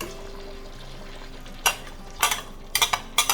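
Ogbono soup with okra being stirred in a pot, heard as a few short scraping, wet clinks of a spoon in sparse bursts after a quiet start, close and fairly faint.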